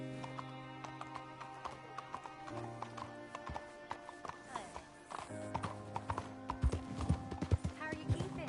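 Horse hooves clip-clop steadily and close by in a western video game, with a whinny, over an ongoing music track.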